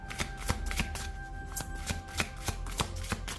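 Tarot oracle cards being shuffled by hand, a quick run of soft crisp riffs and taps, close and quiet.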